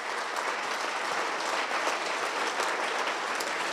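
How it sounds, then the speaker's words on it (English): Audience at a sports Hall of Fame ceremony applauds the inductees, a thick, steady wash of clapping from a large crowd, loud and sustained. "2019, give them one more applause"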